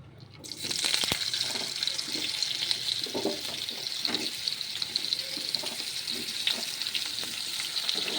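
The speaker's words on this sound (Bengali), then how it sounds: "এবার কড়াইতে বাকি যে তেলটা আছে এটার মধ্যে আমি আলুগুলোকে ছেড়ে দেবো।" Potatoes hit leftover oil in a wok after fish was fried in it, setting off a loud, continuous sizzle that jumps up after half a second and holds steady, with faint clinks and no talking.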